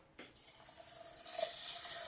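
Water pours into a pot for cooking Gujarati-style kichdi rice: a brief knock, then a steady running stream that swells louder toward the end, heard alone without talk.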